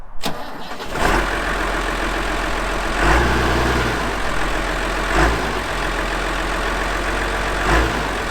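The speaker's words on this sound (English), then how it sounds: "These engines just sound beautiful." An old farm tractor engine idles loudly and close by after a brief start, a steady deep chugging rumble with periodic surges in revs every couple of seconds.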